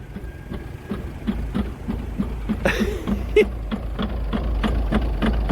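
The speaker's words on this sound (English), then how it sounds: "It sounded like an old diesel two-stroke." An old diesel two-stroke engine runs roughly, a low uneven knocking chug with rhythmic pulses, fairly near, with a brief rattling clatter partway through.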